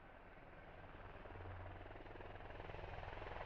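A helicopter landing in the SquadOps video game, its rotor making a steady low chopping thrum that slowly grows louder, heard alone without voices.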